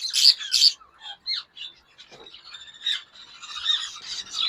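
A yellow ringneck parrot from a breeder pair gives two loud, harsh squawks close by, followed by scattered softer chirps and raspy calls.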